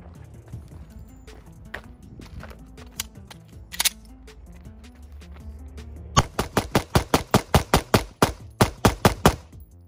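Gunshots from a home-built P80 pistol during a first function test, a few scattered shots followed by a rapid string of loud, sharp reports fired in quick succession.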